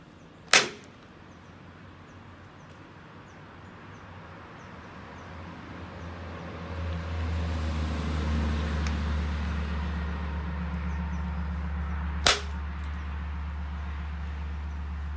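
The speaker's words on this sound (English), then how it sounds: "Hear the bus." A school bus passes outside as a low, distant rumble that swells midway and holds steady. Two sharp stone-knapping clicks ring out near the start and end.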